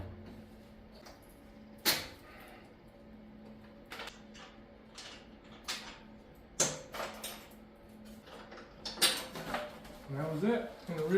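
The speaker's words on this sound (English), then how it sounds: "You gotta take the pins out" Pins are pulled from the mounts of a Peerless 820 transaxle so its bash plate drops off. Intermittent metallic clunks, creaks and scraping knocks ring out near the mic, with some voice sounds in between.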